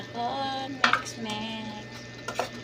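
Mung beans sautéing in a pan: a low, steady sizzle with two sharp utensil clinks against the pan as the dish is stirred.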